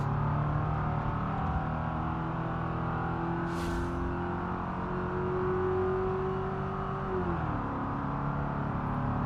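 A Ford Crown Victoria engine in the BeamNG racing game drones steadily as it accelerates, its pitch climbing slowly before dropping with a gear change, with a brief whoosh partway through.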